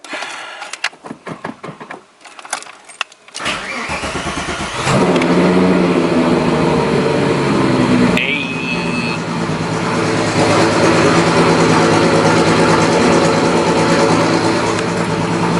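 Several rapid clicks and cranks lead into a 1973 Volkswagen Westfalia camper van engine catching, revving up, then settling into a loud, steady idle nearby.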